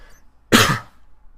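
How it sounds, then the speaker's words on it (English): A single person coughs once, a short harsh burst close to the microphone with no talk around it, heard while working on a one-pound Blaze ground-clip setup. "Pardon the coughs."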